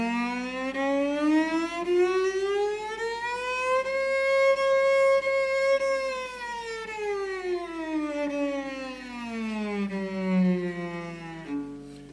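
A cello imitates a wailing civil defense siren, one long bowed tone gliding up, holding, then sliding slowly back down, loud and alone.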